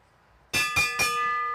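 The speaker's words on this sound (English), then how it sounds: "Here comes the bell, here comes the bell." A bell clangs three times in quick succession at a track cycling race, the Madison national championships, loud and near, with the last strike ringing on.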